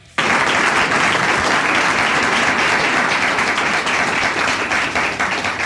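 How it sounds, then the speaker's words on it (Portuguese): A crowd bursts into loud, sustained applause that starts abruptly and continues steadily, dense clapping filling the whole stretch. "Quero palmas, cadê as palmas?"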